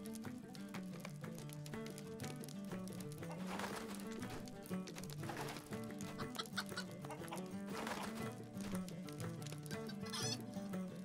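Chicken clucks and squawks from a video game sound loudly over steady game music, with several sharper calls spread across the stretch.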